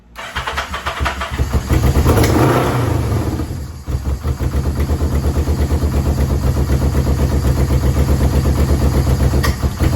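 A muscle motorcycle engine, choke on, cranks and catches, swells into a brief rev, then settles into a loud, steady, rapidly pulsing idle close by.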